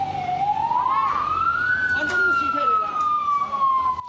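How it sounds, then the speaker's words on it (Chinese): A fire engine siren wails at a house fire in a three-storey home in Miaoli County, Taiwan, its single tone slowly rising and falling, loud and steady over street noise. "消防车赶到现场"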